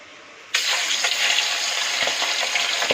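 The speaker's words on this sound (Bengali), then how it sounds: "এবার মাছগুলো ভেজে নেব হালকা করে।" Pabda fish frying in hot oil in a wok, a loud, steady, close hiss and crackle that bursts in suddenly and holds without pause.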